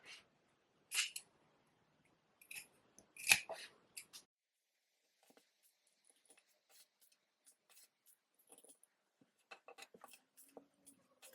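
Scissors snip triangles into the seam allowance of fabric for a reversible waistcoat, a few crisp close cuts early on followed by a run of faint, scattered little snips in a quiet room.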